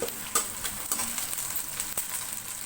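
Bay leaves sizzle and crackle in hot oil in a pan, a steady close frying hiss with occasional sharp pops and a little stirring, no voices.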